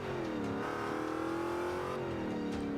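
A 1973 Pontiac Firebird Trans Am in Forza Motorsport 5 revs and accelerates steadily, its engine note climbing and shifting pitch, loud and alone with no talk.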